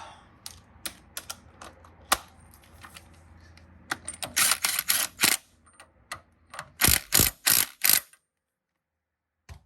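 A hand ratchet runs a new wheel stud up on a Ford Mustang, giving quick clicking bursts, scattered at first and then louder and faster in short runs before stopping, close up with no talk.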